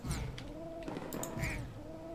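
Pigeon cooing in the game Bum Simulator, several soft, low, warbling coos in a row against a light background of other game sounds.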